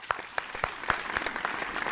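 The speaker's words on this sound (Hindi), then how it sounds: "अमरदेव दुबे के लिए तालियां बजा दीजिए।" Audience clapping for a named participant during a Hindi programming class, a short burst of scattered hand claps with several sharp individual claps standing out.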